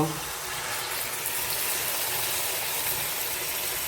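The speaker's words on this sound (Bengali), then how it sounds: "বড় বাটির হাফ বাটি নারকেল দুধ দিয়ে দিলাম" Coconut milk poured into prawn curry masala in a pan, a steady close-up rush of liquid with a broad hiss that holds evenly for a few seconds, with no pause.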